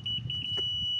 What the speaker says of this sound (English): it basically beeps when it's in the right spot, and it'll tell you with arrows whether you have to go up or down